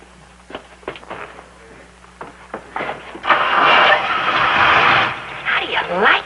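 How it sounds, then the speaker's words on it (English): A car motor is started after a few brief spoken words: the engine cranks, catches and roars loudly for a couple of seconds, then settles into a lower running sound. "Start the motor, would you?"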